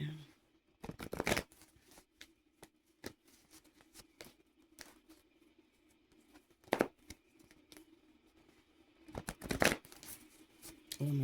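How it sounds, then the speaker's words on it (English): Voodoo tarot cards are shuffled by hand in quick bursts: a riffle at the start, scattered soft flicks and taps through the middle, and a louder shuffle near the end. The sounds are close and fairly quiet against a faint background hum. "let's do a quick shuffle"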